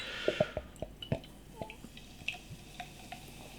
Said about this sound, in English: as I'm pouring the beer